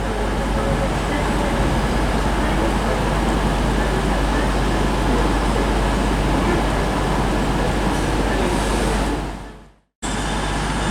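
Train pulling out of Reading station, a loud, continuous rumble and roar of wheels and engine close by that holds steady before suddenly cutting out, no talking.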